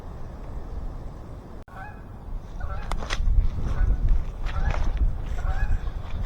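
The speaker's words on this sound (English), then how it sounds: "Those geese are loud." Geese honk repeatedly at moderate distance, a chorus of overlapping calls over steady background noise and a low rumble.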